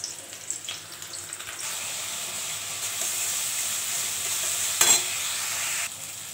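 Onion sizzling in hot oil for a loita fish curry makes a steady close hiss and crackle that swells louder midway, with a sharp clatter of stirring near the end and no voices.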